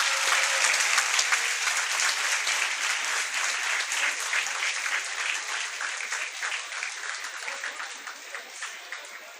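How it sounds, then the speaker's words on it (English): A large audience at a school felicitation ceremony for class-ten achievers claps steadily and loudly, the dense applause gradually thinning toward the end with no talking. "A huge round of applause, everybody."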